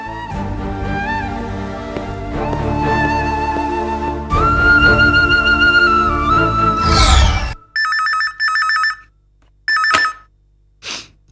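A telephone rings in a Tamil domestic drama scene, its bright electronic trill sounding in several separate bursts after a loud stretch of background music fades out.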